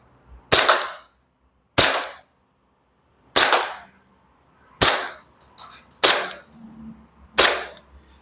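Six sharp airsoft pistol shots from an Umarex/KSC HK USP.45 Match fired at targets about fifteen meters away, loud close cracks spaced roughly a second or more apart, with nothing between them.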